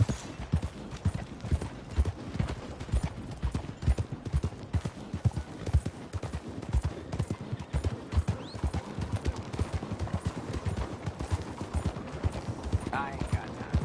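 Horse hooves clip-clop steadily in a PS4 video game, rapid galloping beats continuing throughout, with someone talking and occasional distant in-game sounds.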